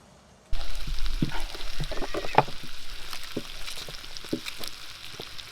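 Bacon fries over a campfire, crackling and popping close by with irregular sharp spits over a steady sizzle and a faint scrape or two, with no talk.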